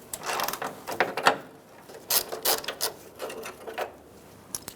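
A ratchet fitted with a 10mm socket turns out the headlight bezel bolts on a Ford E-350 Super Duty van, giving irregular bursts of clicking and rattling with short pauses between them.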